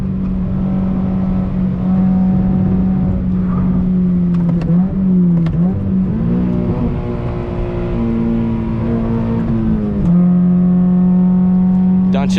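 A Subaru BRZ driven on a mountain pass, its engine droning steadily from inside the cabin with pitch dips and rises as it shifts and accelerates, loud and close.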